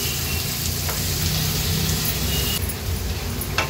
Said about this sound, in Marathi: कांदा छान मऊ होईपर्यंत आपल्याला शिजवून घ्यायचा आहे